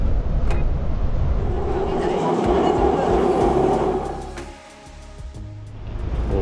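A subway train in Seoul, South Korea, rumbles past in a loud, steady roar with a rising and falling hum that briefly dips before swelling again, heard close up.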